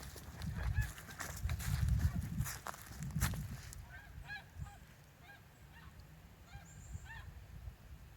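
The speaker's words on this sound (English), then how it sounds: "Lots of geese." A flock of geese honks repeatedly at a thawing lake, calls scattered and moderately distant over a rumbling wind-like background that is heavier in the first few seconds.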